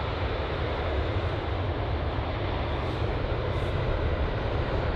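A LOT Polish Airlines airliner in Independence livery at London Heathrow gives off a steady, dense engine roar that holds at an even level throughout, with no voices.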